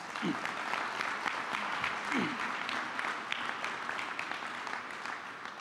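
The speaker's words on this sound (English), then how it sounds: "Mayor Lee, Mayor of San Francisco, please give him a round of applause." A crowd applauds San Francisco Mayor Ed Lee at an outdoor groundbreaking for College Track's Bayview Hunters Point center, a fairly quiet, steady spread of clapping with a few brief background voices.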